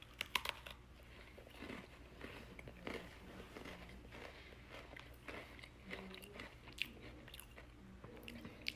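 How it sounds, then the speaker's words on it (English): Someone bites into and chews a Hot Cocoa Oreo cookie, producing faint, close crunching and crisp snaps in an irregular rhythm, with no talking. "I'm just gonna eat the whole Oreo with the cookie and everything."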